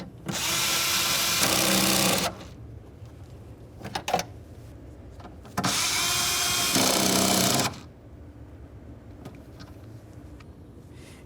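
A power driver snugs up bolts on a rear window regulator assembly of a 2012-2018 Nissan, giving two sustained whirring runs of about two seconds each, separated by quieter clicks and handling.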